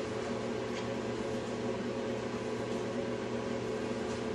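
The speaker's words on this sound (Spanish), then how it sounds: "Si enciendes la secadora en un ciclo regular," A clothes dryer runs steadily on a regular cycle, its heating element not working, giving a continuous loud drum hum and broadband whir with no pauses or voices.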